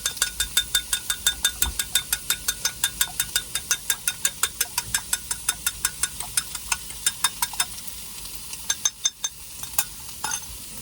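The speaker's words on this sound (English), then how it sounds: "whisk up the eggs a little bit." A fork whisks eggs in a bowl in quick, even clicks of about four per second, close and steady for around nine seconds before slowing into a few scrapes, with no speech.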